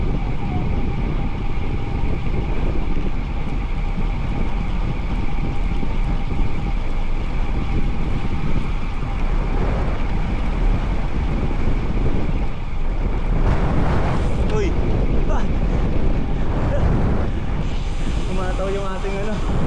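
Steady, loud wind roar buffets the microphone throughout a long windy bicycle ride, a continuous broadband rush with a few brief gusts and rattles near the end.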